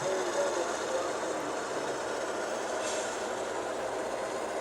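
A model train with a piggyback flat car in a mixed manifest consist runs on a layout, giving a continuous rolling, rattling rumble of wheels on track, steady and close throughout.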